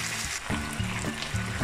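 Chicken pieces searing in a hot pan for lemon chicken, giving a steady close sizzle with faint stirring scrapes and no voices.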